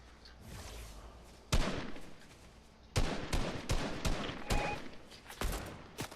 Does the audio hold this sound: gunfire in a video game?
yes